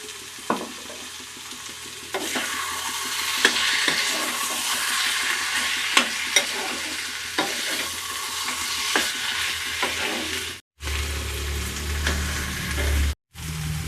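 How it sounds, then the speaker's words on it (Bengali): A snake gourd and poppy seed curry, topped with a little raw oil, is fried and stirred in a pan. It gives a steady loud sizzle broken by repeated spatula scrapes and clicks, then cuts out briefly twice near the end. "ওপর থেকে আমি একটুখানি কাঁচা তেল দিয়ে দিলাম, দিয়ে এবার এটাকে নাড়িয়ে নেব"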